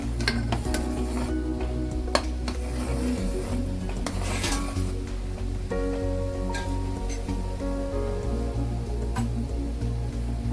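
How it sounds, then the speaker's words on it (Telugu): Thick sugar syrup for puri khova sweet bubbling and boiling in a pot on a home stove, a steady close simmer with pot and utensil clatter layered over it, no voices. "చూడండి ఫ్రెండ్స్, ఎంత బాగా పాకం అయితే మరుగుతుందో."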